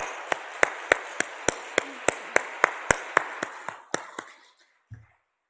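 A church congregation at a Sunday evening service claps in unison, a steady rhythmic beat of about sixteen evenly spaced claps that slowly fades away, heard without talk.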